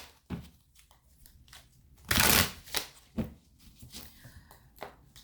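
Tarot cards being shuffled by hand in repeated short papery riffles, with one louder, longer burst of shuffling partway through, close and without speech.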